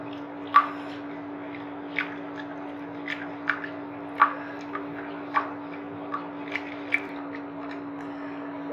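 A cream mixture is stirred in a pan over a steady background hum, with soft scraping taps and light squelches at irregular intervals, close and quiet.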